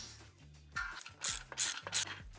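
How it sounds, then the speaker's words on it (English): Ratchet wrench tightening bolts on a charger bracket under the rear subframe of a classic Mini Cooper electric conversion, with repeated quick clicking strokes close by and no talking. "I'm gonna bolt this into this bracket now, which is what's gonna hold it up under the rear subframe"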